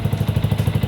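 A Yamaha R15 V2 motorcycle engine idles just after a Motul 5100 Ester oil change, with a steady, even pulsing putter heard close up and alone.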